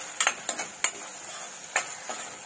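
Ginger garlic paste being stirred into cauliflower and peas frying in a pan, a spoon scraping and clinking in several quick strokes over a steady soft sizzle, no talking.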